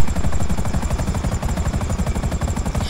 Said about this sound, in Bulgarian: Хеликоптер!